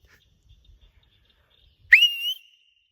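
After near silence, a single loud, piercing human whistle rings out, rising sharply and holding a high pitch for about half a second.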